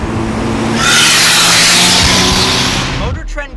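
GMC Typhoon SUV engine roaring loudly under hard acceleration for about three seconds, a broad sustained rush of engine and road noise that cuts off abruptly near the end.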